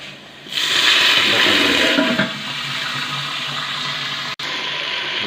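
Water is poured into a pot of lightly browned frying onions for chicken claw biryani, a loud hissing gush that starts abruptly and eases into a steadier sizzle and bubble.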